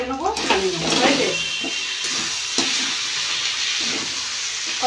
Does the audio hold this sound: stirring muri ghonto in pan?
yes